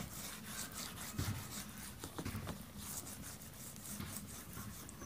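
Clay bar rubbed by hand across black paint on a Chevrolet Suburban, a faint steady scrubbing and rubbing texture with a few soft bumps, quiet and close.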